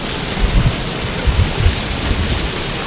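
A waterfall with a steep drop on the Manistee River Trail gives a constant, loud, broadband rush of falling water, with a few low rumbling swells.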